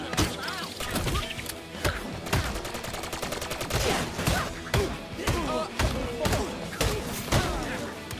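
Rapid, punchy gunfire bursts in a Lego Batman video game, dense repeated shots and thuds layered with game sound effects and music.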